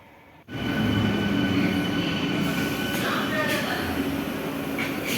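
A train at a railway station rumbles in abruptly after a moment of quiet, a loud steady roar of rolling wagons with squealing wheels and faint chatter from people on the platform.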